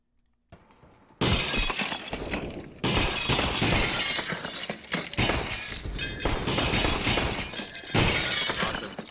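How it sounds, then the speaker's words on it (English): Glass shattering repeatedly in a CS:GO match, loud crashing bursts of breaking panes that come in several waves back to back after a brief quiet start. "Lots of glass being broken by Mulsey"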